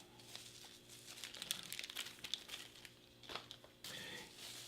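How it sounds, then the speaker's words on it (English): A very thin plastic bag from a Polish 24-hour SRG military ration pack crinkles and rustles in quick, uneven bursts close by, quiet overall with a brief steadier rustle at the end. "very thin plastic bag."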